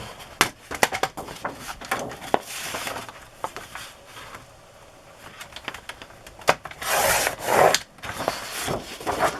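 A 1.5-inch paper strip is cut for a handmade picture wheel journal cover: scraping, rubbing cuts in quick bursts near the start, then a louder stretch of cutting late in the clip, with no talking.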